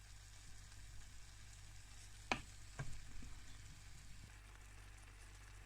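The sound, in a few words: sauce boiling in pan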